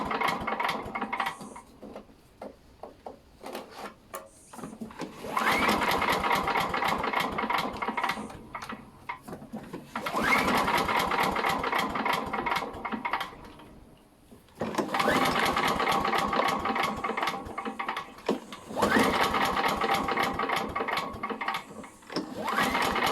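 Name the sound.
trying to pull-start a Talon Mach 460 engine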